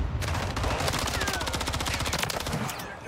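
A rapid automatic weapon fires a long, steady, evenly spaced burst of shots in Modern Warfare III, loud and close, with faint game sounds underneath.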